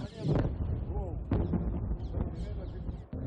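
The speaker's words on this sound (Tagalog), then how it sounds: "maririnig naman ang mga pagsabog." Distant booms and blasts of rockets intercepted by the Iron Dome in Israel rumble through wind noise, a few deep thuds spaced apart, with people talking faintly in the background.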